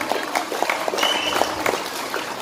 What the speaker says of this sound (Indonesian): Tepuk tangan dulu ini boleh.